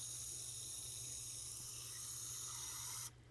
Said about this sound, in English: I'm going to then put the water in